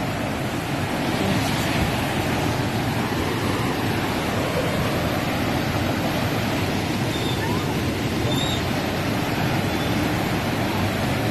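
Steady, loud roar of the flooded Estelí River rushing, filling the whole clip, a dense broadband wash with no pauses, churning close by.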